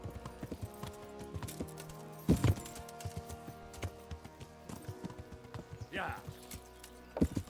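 Horse hooves clip-clop steadily in a video game, a rhythmic stream of light hoofbeats that continues under a talking voice, with a few louder knocks standing out along the way.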